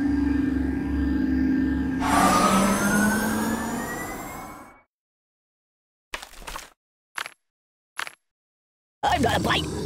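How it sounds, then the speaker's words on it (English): A wailing emergency siren in the Kick the Buddy video game plays loudly for a few seconds before cutting off, followed by short bursts of other game noises. "Siri, call the ambulance!"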